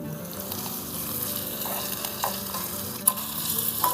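Onions fry in oil in a pan over a village wood-fired chula while tomato chutney is being made, with a continuous sizzle, occasional scraping stirs and a sharp clack near the end, and no voices.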